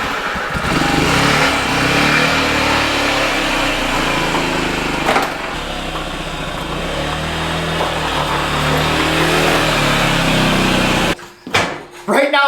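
A small 49cc engine on a goofy little ride, revving steadily while riding with a constant loud buzzing drone, then cutting off near the end followed by a few brief knocks.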